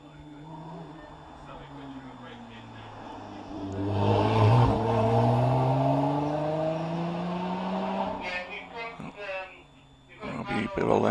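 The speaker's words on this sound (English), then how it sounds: "Number 72 is Robbie Birrell in the Lotus Exige V6 Cup car with the" Lotus Exige V6 Cup car with a 3.5-litre engine racing up a hill climb course, its loud engine revving and climbing in pitch through the gears before easing off, with a commentator talking over it.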